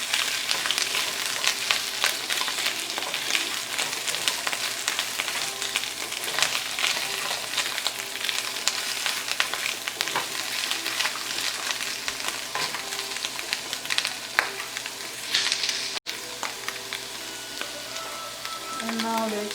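Luncheon loaf and vegetables sizzle steadily in a small frying pan for an omelet, a dense close crackle with occasional scrapes and stirs, and no talk.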